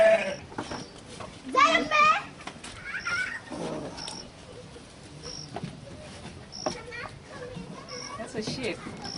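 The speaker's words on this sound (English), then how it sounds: "The sheep, these are the sheep." Sheep bleating on a farm in Kenya, heard in short wavering calls among children's voices and ongoing talk, with goat-like cries mixed into the busy farmyard noise.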